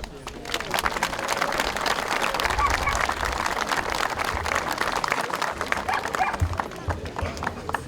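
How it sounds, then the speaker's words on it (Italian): Sustained crowd applause for the cross bearers at the Kiss of the Crosses gathering in Zuglio, dense steady clapping from many hands close by, rising quickly and holding at full strength to the end. "Un battimani."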